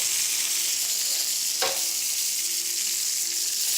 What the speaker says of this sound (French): la viande elle est colorée tout simplement, elle n'est pas du tout cuite